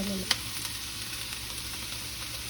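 Fenugreek seeds frying in hot oil for a tilapia fish curry give off a steady, even sizzling hiss, with a single sharp clink of a spoon near the start.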